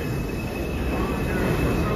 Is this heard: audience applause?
no